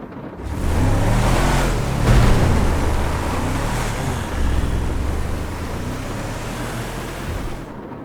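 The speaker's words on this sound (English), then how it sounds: "hear the sound of a car starting and going at high speed immediately" A vehicle engine roars up and races away, loud and broadband with a rushing, wind-like wash, sustained for several seconds before cutting off.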